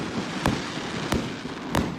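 Fireworks go off at night in three sharp, loud bangs spaced evenly over a couple of seconds, each cutting through a steady background rumble.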